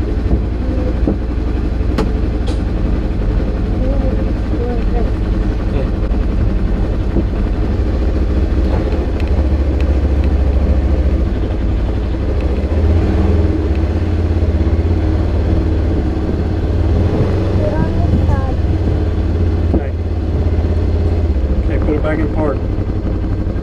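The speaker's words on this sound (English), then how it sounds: "Start it up. What do you gotta do to start this thing? Turn the key." A riding lawn mower engine is started with a key and runs as a steady, fairly loud motor drone under ongoing conversation, with occasional clunks heard throughout.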